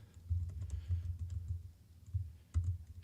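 Quiet, close clatter of fingers typing on a computer keyboard, an uneven run of soft key taps with short pauses between bursts.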